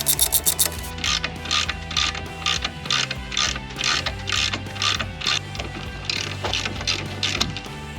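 A ratchet wrench undoes a 16 mm bolt on a car subframe, giving loud, close bursts of rapid ratcheting clicks that repeat in quick strokes with short pauses between them, with no voices.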